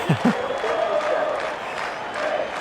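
In the Cricket 19 video game, an England vs Pakistan Test crowd roars and chants as the Barmy Army gets behind a bowler, a dense, sustained wall of cheering.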